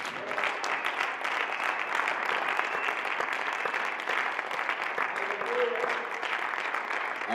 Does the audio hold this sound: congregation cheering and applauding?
yes